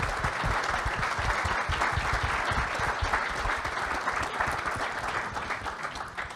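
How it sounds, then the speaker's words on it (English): A panel audience gives Bishop Demetrios of Xanthos a full, steady round of applause, a dense roar of many hands clapping that holds at an even level throughout and eases slightly at the end. "please, a round of applause"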